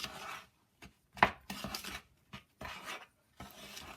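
Dry suet pudding ingredients being mixed in a bowl for a steamed treacle pudding, heard as close rhythmic scraping and rasping strokes in short bursts separated by brief pauses.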